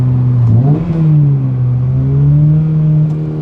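A 2022 Subaru BRZ or Toyota GR86 with an HKS Hi-Power single exhaust blips up in pitch on a downshift, then settles into a loud, steady exhaust drone near 5,000 RPM, heard close from inside the car.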